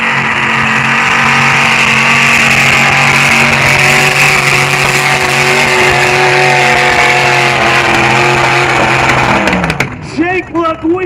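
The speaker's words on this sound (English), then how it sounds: "Right off the rev limiter." A drag race car roars at high revs on the rev limiter during a night event, then launches hard, its loud engine note cutting off abruptly near the end with crowd and announcer sound after.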